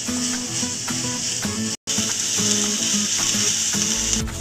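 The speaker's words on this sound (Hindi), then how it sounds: "कॉर्न डाल देंगे, शिमला मिर्च डाल देंगे, मटर भी डाल देंगे और इनको 3 से 4 मिनट के लिए हम इनको फ्राई कर लेंगे" Corn, capsicum and peas frying in a pan make a steady, loud, close sizzle with occasional stirring scrapes, broken by one very brief dropout, and no voices.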